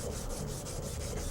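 Steady back-and-forth rubbing of sandpaper on a handmade knife blade, a close, continuous gritty hiss with a soft rhythmic pulse and no talk.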